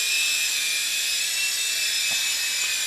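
A Sky Rover Dark Stealth toy drone hovers indoors with a steady, high-pitched whine from its small propellers, loud and close and unbroken.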